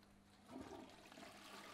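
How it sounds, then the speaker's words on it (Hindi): A toilet flushes in the horror game Lingering Souls: a steady, moderately quiet rush of water that swells after a brief pause and keeps running. "फ्लश होता है"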